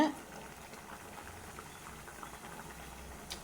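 Low, continuous bubbling of a dried-fish curry simmering in a pot on the stove, soft and steady with faint background noise.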